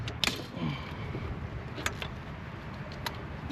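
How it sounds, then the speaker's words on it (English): A wrench cracks loose two bolts, sized 17 and 15, holding a car part: close metallic creaks and clicks come in a few short bursts over a steady mechanical hum. "So let's go ahead and crack them both loose."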